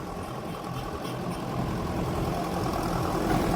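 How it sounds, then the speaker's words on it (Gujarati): A tractor engine runs with a continuous, even rumble and broad noise that swells slightly partway through, steady and fairly close with no voices. "ભાણું આપણું ટ્રેક્ટર લઈને આવ્યા."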